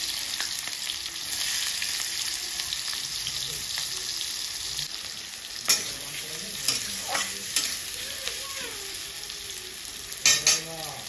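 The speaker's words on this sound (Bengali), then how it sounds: "তেলটা গরম হয়ে গেছে, আমি দুটো পেঁয়াজ কেটে নিয়েছি। পেঁয়াজ দুটো তেলের উপরে দিয়ে দিলাম।" Sliced onions frying in hot mustard oil for noodles give a steady, dense sizzle close to the pan. A few soft stirring knocks sound near the end, and no one speaks.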